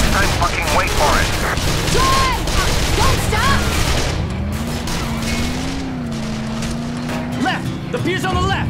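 Gunfire erupts in a shootout in the video game Call of Juarez: The Cartel, bursts of shots mixed with engine noise and a loud, busy game mix while voices shout over the action.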